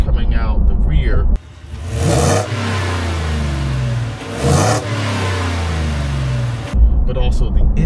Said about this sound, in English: that engine note sounds really good